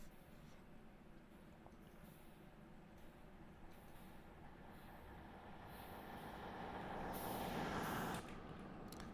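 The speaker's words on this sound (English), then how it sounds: "And there's our train coming." A train approaches faintly in the distance, heard from inside a moving rail cab, its low rumble slowly swelling over steady cab noise, with a brief hiss near the end.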